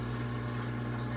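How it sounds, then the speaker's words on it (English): A EUHOMY countertop nugget ice maker running, with its water pump giving off a steady low hum and faint liquid gurgle, constant and close with no talk over it. "So, this is our ice maker."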